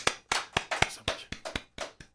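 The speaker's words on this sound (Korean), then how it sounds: "박수 한번 하나님께 영광받습니다" A church congregation at a Christmas worship service gives about ten sharp, separate hand claps in an uneven rhythm, close and clear with no talk over them.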